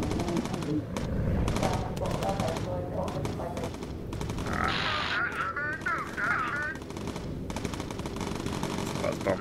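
In the bomber game Bomber Crew, gunners fire rapid bursts of machine-gun fire, sometimes overlapping, while crew members talk over the shooting.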